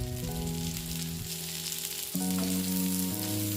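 Brinjal sautéing in a pan, a steady loud sizzle and crackle filling the whole stretch at close range, with no talk, over a low tonal hum that shifts pitch partway through.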